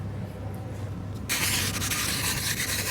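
A sheet of 180-grit wet-dry sandpaper rubbing over the fiberglassed edges of a paddle, a soft faint scuff at first and then a close, steady, loud scratching rasp.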